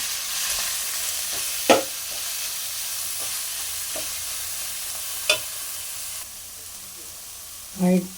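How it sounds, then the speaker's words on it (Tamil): Spinach fries in a pan without water, a steady soft sizzle broken by several sharp scrapes and knocks of a stirring spoon, the last a louder clatter near the end. "நல்லா கிளறி எடுத்துடலாம்"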